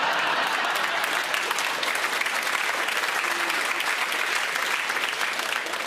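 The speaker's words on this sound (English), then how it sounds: "You know why you're clapping, right?" Sustained audience applause from a crowd at a live comedy stand-up show, dense and steady clapping filling the room for about six seconds with no speech over it.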